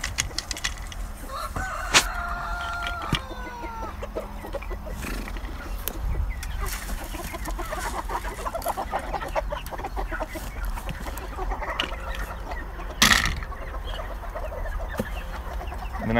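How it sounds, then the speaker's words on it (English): Bantam chickens cluck and squawk in a coop while being fed, a busy flock chatter close by with a few sharper calls and rustling, continuing throughout. "Let me go ahead and feed these bantams"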